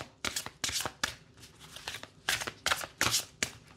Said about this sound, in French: on va se tirer une petite carte et puis aller voir dans le bouquin